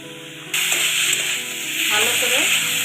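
Bathua greens frying in hot oil, a loud, steady sizzle that swells suddenly and continues with stirring, close up and without talk.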